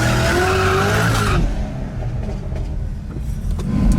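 A 600 hp Honda-powered Smart car street racer tears off in a hard pull, tires squealing loudly for over a second before the shriek drops into a rough, close engine roar that swells again at the end.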